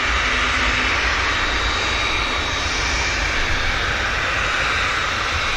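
An EasyJet airliner taxis out at Manchester Airport, its engines giving a loud, steady, broadband roar with no breaks or voices.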